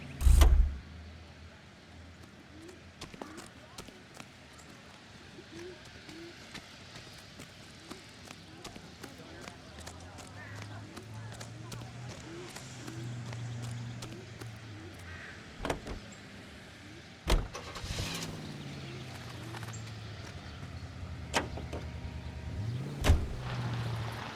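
Period car driving in the L.A. Noire video game, a low steady engine hum running throughout with a rising and falling tone, scattered clicks and thumps, and a few sharp knocks near the start and end.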